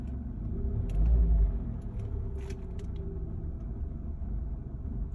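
A 2011 Hyundai Tucson engine idles rough with a fault that makes its RPM jerk, giving a low rumbling drone that swells once early on and then settles, with faint light ticks above it.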